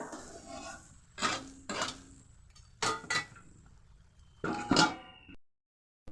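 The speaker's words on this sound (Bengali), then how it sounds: "চলুন এবারে আমরা ঢাকাটা দিয়ে দিই।" A metal lid set onto a cooking pot of tomatoes and spices in a home kitchen, heard as several separate clanks and rattles spread over a few seconds. The sounds are close, fairly loud and clear, with short quiet gaps between them.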